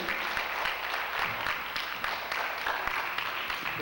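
Congregation at a missionary service inauguration applauding steadily, dense continuous clapping from a crowd close by, with no talk over it.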